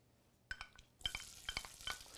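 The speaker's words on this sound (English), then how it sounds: "Did you hear the sizzle? That means that the pan is up to temp." Onions hitting olive oil in a hot pan for a simple meatless ravioli sauce, a burst of crackling sizzle with sharp pops and stirring scrapes that builds and continues, close and alone.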